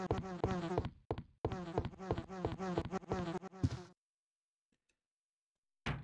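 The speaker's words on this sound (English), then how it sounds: "Some buzzy bees." Insect buzzing from bees in the video game Resident Evil 2, a dense, steady hum that drones for about four seconds, breaks off briefly once, then cuts out into near silence before a short return at the very end.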